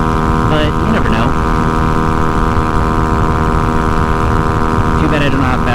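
A Honda Ruckus scooter engine revs high while riding, a loud steady buzzing drone held at high RPM throughout, with short bits of speech over it.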